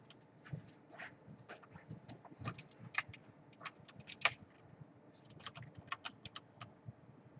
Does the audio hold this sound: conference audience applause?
no